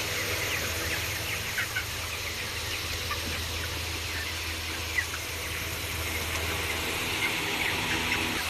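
Farm chickens eat together, giving faint scattered clucks and squeals over a steady low background drone, with occasional small pecking taps and no voices.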